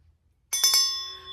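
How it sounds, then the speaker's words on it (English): A small silver-plated bell is shaken in three quick jingling strikes, then rings on with a clear, bright, slowly fading tone. "I picked up this bell"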